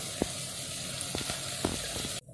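Moong dal frying in a pan makes a steady close sizzle with a few small pops, then cuts off abruptly near the end.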